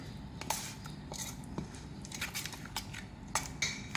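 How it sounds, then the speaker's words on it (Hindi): A spoon stirs spices, including red chilli powder, through a butter chicken mixture in a bowl, giving soft scraping and light metallic clinks at an irregular pace, close and fairly quiet, with no talking. "मिक्स कर लेंगे इसको अच्छी तरह से।"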